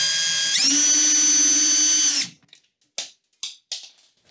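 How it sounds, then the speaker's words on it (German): A power screwdriver whines steadily for about two seconds, backing out a size 20 Torx screw from a Siemens washing machine panel, then stops and a few short clicks and knocks follow nearby. "Und dazu entfernen wir erstmal die Schraube."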